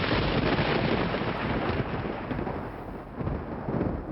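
Thunder sound effect used to open a podcast's lightning round, a broad loud rumble rolling continuously for about four seconds with slight swells, no voices.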